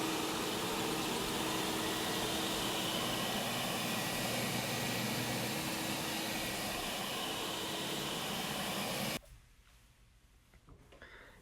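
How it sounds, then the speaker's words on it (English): An auto scrubber drones loudly and steadily as it cleans wood floors, a continuous whirring roar of motor and suction that cuts off abruptly near the end, leaving a quiet room. "Here we're using an auto scrubber on the wood floors to remove that solution and the contamination that it's loosened up from the floor."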